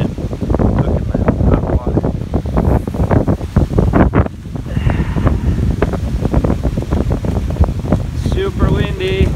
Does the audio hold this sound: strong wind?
yes